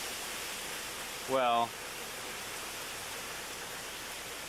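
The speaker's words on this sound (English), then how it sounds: "see how the trees are really whipping in the breeze" Hurricane Bob's winds in 1991 roar steadily through trees beside a house, a constant broadband rushing with no letup, briefly interrupted by a short spoken word.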